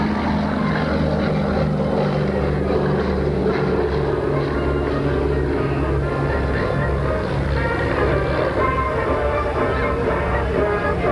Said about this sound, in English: the only DC-3 in the world on floats